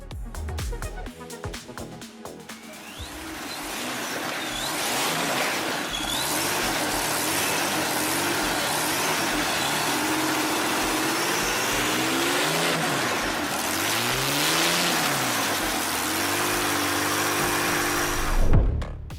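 A Curtiss-Wright R3350, an 18-cylinder, two-row radial piston aircraft engine, runs on a test stand with a loud, continuous rumbling roar that holds steady for about nineteen seconds, then swells briefly near the end.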